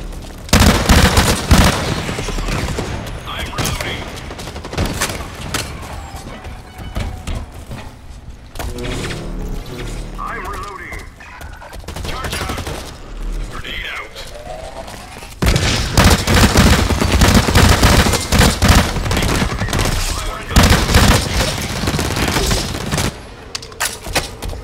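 Dense, loud video game gunfire from Blacklight Retribution, rapid automatic bursts and booming shots rolling almost continuously with brief lulls, no talk.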